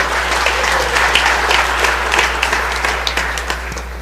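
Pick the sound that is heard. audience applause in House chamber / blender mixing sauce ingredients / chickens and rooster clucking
audience applause in House chamber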